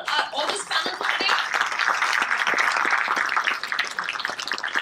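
Audience applause at a panel discussion on employee engagement, a steady, dense round of clapping filling the room, loud and continuous throughout.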